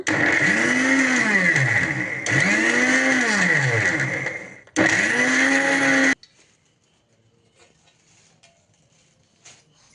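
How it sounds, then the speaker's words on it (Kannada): A mixer grinder blends roasted wheat flour with jaggery in loud, steady bursts: two long runs and a shorter third, each dropping away abruptly, followed by near silence with faint kitchen clicks. "ಇದನ್ನು 1-2 ಸುತ್ತು ಮಿಕ್ಸಿ ಮಾಡ್ಕೊಂಡೈತಿ."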